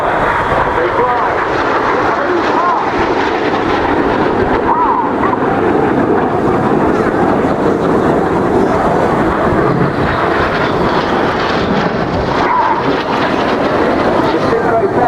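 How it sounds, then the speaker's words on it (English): Red Arrows jets fly low at 100 feet at the Bournemouth Airshow, a loud, continuous, broad engine roar that fills the air without letting up. "These 4 aircraft are now flying at 100 feet and their closing speed is 800 miles an hour."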